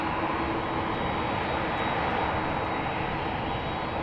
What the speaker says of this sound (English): KLM Flight 1793, Boeing 737-900, 19 years old already.